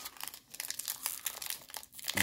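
A plastic wrapper on a trading card booster pack crinkles and rustles steadily as it is worked open, close and continuous with no talking.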